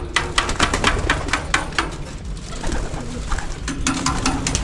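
Pigeons cooing close by during training at a loft release door, repeated soft throaty coos mixed with tapping and rustling, steady and fairly loud, no speech.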